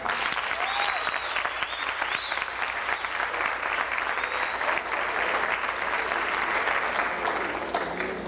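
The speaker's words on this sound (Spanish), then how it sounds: "Quiero que reciban con un fuerte aplauso a la directiva de la clase graduanda." Sustained applause from a large audience at a 1987 Piedras Heights graduation ceremony, dense steady clapping that fills the whole stretch without a break.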